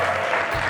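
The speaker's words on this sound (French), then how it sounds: "vous pouvez applaudir pour vous" Children in a TV studio clap together in a short, dense burst, lasting under a second with no voices.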